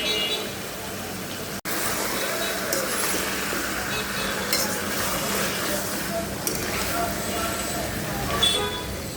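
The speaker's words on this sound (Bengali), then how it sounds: "এই যে পটলটাকে এখানে ভাজতেছি।" Pointed gourd (potol) frying in oil in a pan, a steady broadband sizzle that runs throughout with scattered clinks of utensils against the pan.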